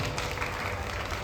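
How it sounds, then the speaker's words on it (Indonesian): A storytelling session audience claps, a dense, even burst of applause from many people, moderately loud and close, with no talking. "Kita berikan tepuk tangan luar biasa."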